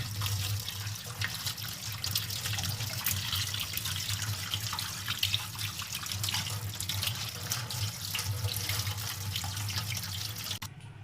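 Tap water runs steadily into a sink as bitter gourds are washed under it, a continuous splashing hiss with small irregular drips and handling sounds, close and unbroken for the whole stretch.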